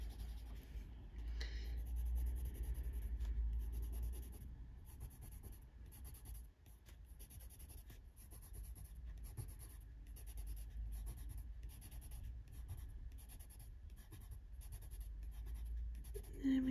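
Coloured pencil shades leaves on a colouring-book page in steady, faint, close scratchy strokes that repeat in short rhythmic bursts throughout, with no talk.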